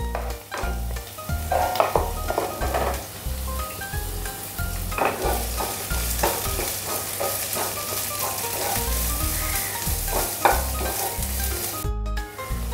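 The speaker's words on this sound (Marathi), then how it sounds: "या फोडणीतच मी घालते थोडीशी ओली कोथिंबीर आणि बारीक चिरून घेतलेला कांदा।" Finely chopped onion and fresh coriander drop into hot oil tempering (phodni) and sizzle steadily. A spoon stirs them with repeated scrapes and soft knocks against the pan, close and without talk.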